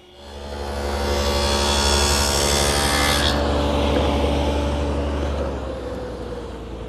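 A table saw with a tenoning jig cuts tenon cheeks on narrow rails for a planter box and bench, a steady loud whine with a blade hum; the pitch shifts partway through as the cut ends, with the motor still running.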